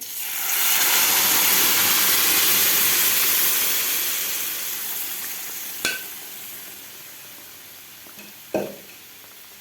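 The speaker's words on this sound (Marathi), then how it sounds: "आता आपण शिजवून घेतलेलं वरण घालायचं आहे यामध्ये" Cooked moong dal poured into a hot tempering of asafoetida and turmeric sets off a loud, steady sizzle and hiss that slowly fades, followed by two short clinks from a pan or utensil near the end.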